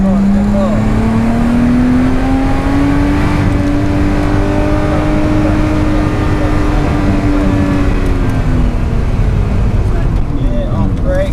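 Race car accelerating around the Oulton Park circuit, its engine a loud continuous drone rising steadily in pitch and then easing, heard from on board for the full length with a voice speaking over it.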